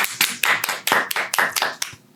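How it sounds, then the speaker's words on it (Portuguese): Brief applause in a podcast studio as a guest is welcomed: about a dozen crisp, separate hand claps in an uneven rhythm, close and moderately loud, ending abruptly with no talk. "Aplaudam!"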